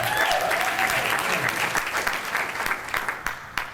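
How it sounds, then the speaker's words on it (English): A crowd at a corporate event in Clinton, Maryland applauds loudly and steadily, the clapping thinning slightly toward the end with a few distinct claps standing out. "let's give them a round of applause"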